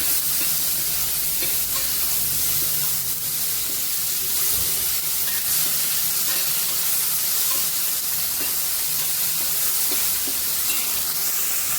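Curry leaves and a dried chilli sauté in oil in a pan, giving a steady, loud, continuous sizzle with faint stirring scrapes throughout and no voices.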